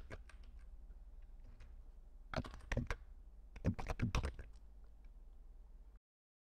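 Typing on a computer keyboard while entering data, a close series of quick key clicks with two denser bursts of rapid taps in the middle, then silence.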